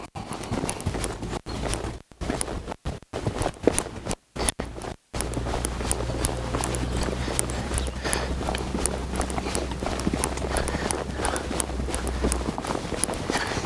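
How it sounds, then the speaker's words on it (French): Horse worked on long reins, moving from walk into trot, with hooves clip-clopping in a steady, quick rhythm. The hoofbeats are moderately close and run under a constant rumble of wind or handling noise, with a few sharp dropouts early on. "pousse le cheval un petit peu au trot"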